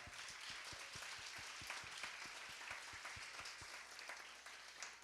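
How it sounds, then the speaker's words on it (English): Sustained applause from a crowd, many hands clapping steadily and densely for several seconds, with a few sharper individual claps standing out. "give them a hand clap"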